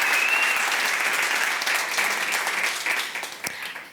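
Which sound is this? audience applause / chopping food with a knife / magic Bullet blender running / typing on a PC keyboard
audience applause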